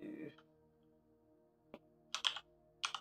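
Computer keyboard typed on while setting up a basic Homey lighting control with a switch: a few quiet isolated clicks, then two short bursts of keystrokes near the end, close and clear over faint background hum.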